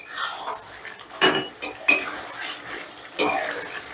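Paneer being stirred and sautéed in spices in a pan for paneer malai curry, with repeated scraping clinks of a spatula against metal at an uneven rhythm over a soft sizzle, close up, no talk.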